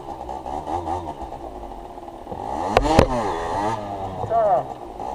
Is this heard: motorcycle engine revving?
yes